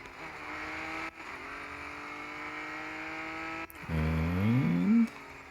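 The engine of a McLaren Artura GT4 race car in a racing video game holds a steady high drone, then brief cuts lead into a low, rising rev as the engine climbs through a gear, with no talk.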